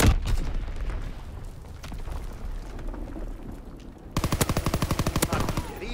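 Call of Duty WW2 battle noise: scattered shots and distant artillery thuds rumble under faint radio-style voice lines, then a loud rapid machine-gun burst of about a dozen evenly spaced rounds takes over near the end.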